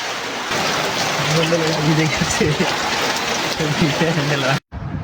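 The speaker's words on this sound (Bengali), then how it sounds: "কুঠিবাড়ি ব্রিজ পার হওয়া মাত্র বৃষ্টি শুরু হয়।" Heavy rain pours down steadily right after crossing the Kuthibari bridge near Alta Dighi, a dense, close, continuous wash of noise with faint low tones underneath, cutting off abruptly near the end.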